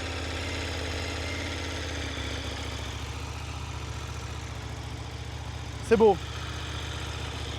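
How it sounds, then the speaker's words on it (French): A KTM Super Duke 1390 R EVO motorcycle idles steadily on its first start from cold, a continuous low rumble throughout, with a brief voice cutting in near the end. "premier démarrage par ici, mais c'est le pot d'échappement qu'il faut voir les gars"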